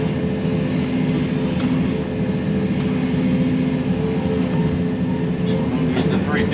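A 350 excavator's diesel engine runs loud and close while backfilling dirt beside a house, a continuous heavy drone that holds steady with slight swells as the machine works.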